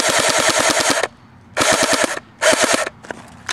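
A CYMA M14 airsoft rifle (2013 enhanced version) fires on full auto in three loud, close bursts of rapid rhythmic shots, separated by brief pauses, with a few lighter mechanical clicks at the end.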